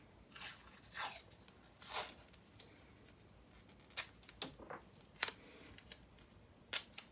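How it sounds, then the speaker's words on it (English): Small pieces of paper tape are torn off and pressed onto embroidery fabric, giving a few short, crisp rips and crinkles at irregular intervals, soft and close with no talking. "I'm just gonna take a couple little pieces of the paper tape and I'm gonna tape my fabric in place."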